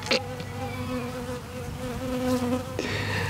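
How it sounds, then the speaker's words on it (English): A bee buzzing in a demonstration garden, a sustained close hum that drones steadily and swells slightly before a sharp rustle near the end. "Hello, bee, you are back."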